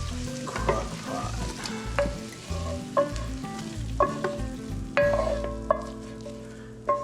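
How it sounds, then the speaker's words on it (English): Browned bacon with its rendered fat and chopped onion tipped into a crock pot, giving a busy, close run of sizzling, scraping and clattering with repeated sharp knocks from a utensil against the pot. "Everything goes in there, all the bacon fat, all the onion"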